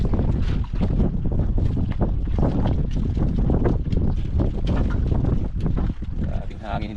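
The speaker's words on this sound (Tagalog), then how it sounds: "Lakas pa rin ang hangin." Strong wind roars and buffets the microphone continuously, a loud rushing noise throughout, with voices occasionally talking underneath.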